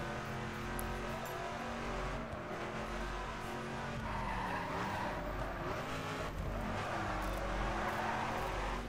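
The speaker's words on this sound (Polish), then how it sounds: "jeszcze przejadę sobie drifting szybko" A Dodge with an automatic gearbox drifts in The Crew racing game, its engine roaring steadily while the tires squeal through a continuous skid, loud and unbroken for the whole stretch.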